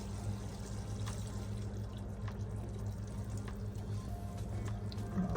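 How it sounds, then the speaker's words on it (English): White wine poured into ground beef browning in a pan, a steady low liquid rush and faint dripping over a constant hum, moderately quiet and close, with no voices. "go ahead and add the 1/4 cup of white wine."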